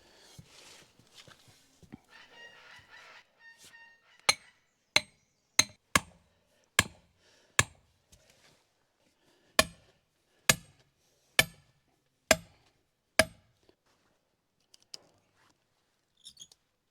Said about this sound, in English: So I'll hammer one of those in.